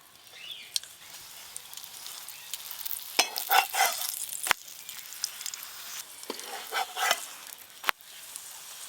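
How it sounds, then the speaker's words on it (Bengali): Paratha frying in white oil on a pan, irregular crackling and spattering bursts with sharp clicks of a spatula between quieter stretches, close and fairly faint. "সাদা তেল দিয়ে ভেজে নেব।"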